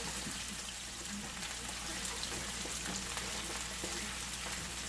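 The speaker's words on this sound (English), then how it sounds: "I'm going to turn my heat down again, down to about medium high. And let them saute up a little bit." Sliced mushrooms sauté in a pan over medium-high heat, giving a steady, close, gentle sizzle with soft crackles and no talk.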